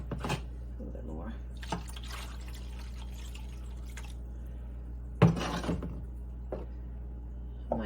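Water is poured into a pan at home as scattered splashes and trickles, with one louder splash partway through, over a steady low hum.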